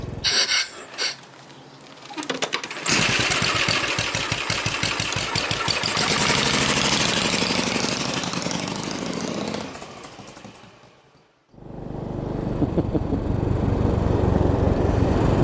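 A Royal Enfield Bullet motorcycle engine fires up and runs loud and close with a steady single-cylinder thump, dipping briefly to near quiet before revving back up strongly.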